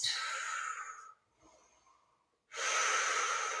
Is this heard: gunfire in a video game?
no